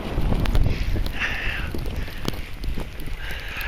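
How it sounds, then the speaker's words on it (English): Strong blizzard wind roaring and buffeting the microphone outdoors in heavy snow, a loud, continuous gusty rush with sharp bursts, alone without talk. "the wind is really making it difficult to keep my eyes open and walk"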